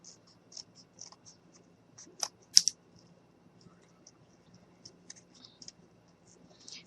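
Scissors trim a double-layered cardboard snowman ornament in a quiet room: scattered faint snips and clicks, with a couple of sharper, louder cuts near the middle and brief gaps of near silence between.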